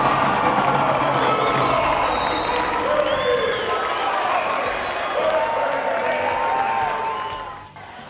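A raucous crowd cheers and shouts at a high school conference basketball game in a gym, with a loud, continuous roar and whistles, shoe squeaks and voices rising above it, fading near the end.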